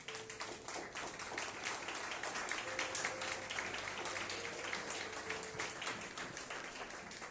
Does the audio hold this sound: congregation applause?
yes